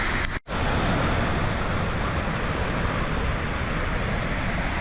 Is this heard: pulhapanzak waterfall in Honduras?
yes